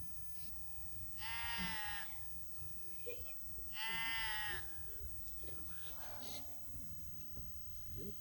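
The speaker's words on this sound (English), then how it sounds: "I hope them sheep aren't going to keep us awake all night. It's pretty constant at the moment, isn't it?" Sheep bleat near a campsite at night, two loud, long, wavering calls a few seconds apart from close by, with low murmuring voices and faint rustling in between.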